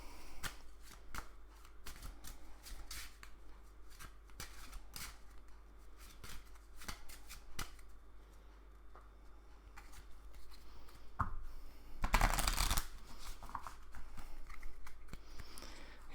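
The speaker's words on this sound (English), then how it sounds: "And then give that a quick shuffle." A deck of Marvel Champions playing cards, handled without sleeves, is shuffled in a run of quick papery riffles and flicks, ending in a louder burst of cards cascading together near the close.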